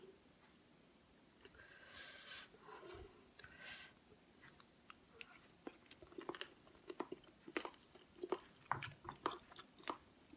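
Crispy roasted three-layer pork belly is bitten and chewed close up, producing irregular crunchy cracks that grow denser and sharper toward the end, with soft mouth sounds between bites.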